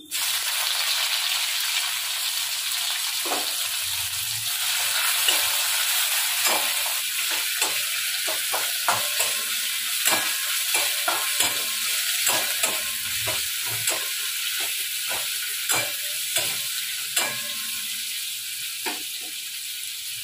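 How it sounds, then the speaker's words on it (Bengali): Chopped onions fry in hot oil with whole cumin seeds and a dried chili, giving a loud, even sizzle. Frequent sharp clicks and scrapes from a stirring spoon break through the hiss, with no voices. "তেলে ফোড়নে গোটা জিরে দিয়েছি কয়েকটা, দেবো শুকনো লঙ্কা একটা, আর একটু পেঁয়াজ কুচিয়ে বেশি করে দিয়ে দিয়েছি"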